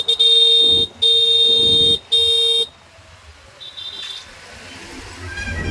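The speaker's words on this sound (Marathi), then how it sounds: "गाड्यांचा ट्रॅफिक जाम झालेला आहे" Car horns blaring in a traffic jam on the road to Ganpatipule, three long loud honks in a row followed by quieter road noise and a faint distant horn.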